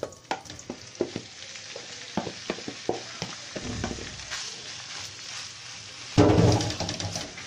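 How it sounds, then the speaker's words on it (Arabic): Minced meat sautéed in oil (not ghee) in a pan, with repeated scraping and stirring clatters over a steady sizzle that surges louder near the end; no talking. "انا كده شوحت اللحمه اهو زي ما انتم شايفين"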